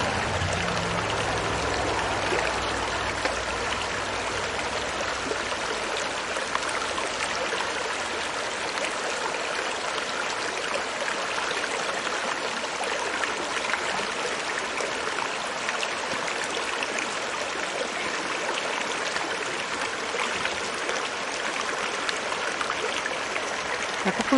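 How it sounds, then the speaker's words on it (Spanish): Small stream of water flowing steadily at the source of a brook, a continuous close trickling rush with no voices. "Es bonito ver el agua correr."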